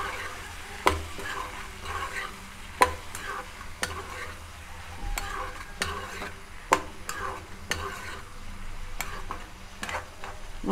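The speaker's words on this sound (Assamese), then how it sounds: "মই এতিয়া ভালদৰে লৰাই দিম।" A utensil stirs colocasia and chola curry with salt and turmeric in a frying pan, scraping the pan steadily. Sharp clicks of spoon against metal recur every second or two over a low sizzle.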